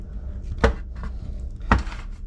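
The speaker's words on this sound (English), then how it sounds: "So we're going to take our slices, put them in my baking sheet" Pumpkin slices are set down on a baking sheet with two sharp, close knocks about a second apart, a faint tap between them, over quiet background.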